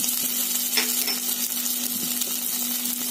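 Chopped garlic and grated ginger sizzle hard in hot refined oil, a loud, dense, continuous frying hiss heard up close with faint stirring scrapes and a steady low hum underneath, no voices.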